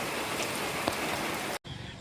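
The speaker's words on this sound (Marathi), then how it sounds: "लय जोरात आलाय पाऊस आता।" Heavy rain pours down near a riverside spot in a dense, loud, continuous roar, then cuts off abruptly near the end before a quieter stretch of rain.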